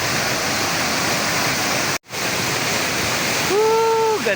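Steady, loud roar of a waterfall more than 20 feet high pouring onto small rocks below, a broadband rushing wash with a brief cut near the middle and a faint voice-like tone near the end.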